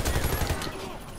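Enemies fire a rapid, loud burst of gunfire at the player in a video game. The shots crackle densely for about half a second and then trail off into echoing noise.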